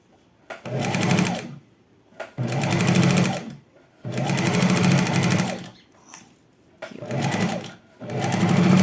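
Sewing machine stitching fabric for elastic-waist shorts with pockets, running in four long, steady bursts of rapid motor whir separated by brief pauses, loud and close, with no talking.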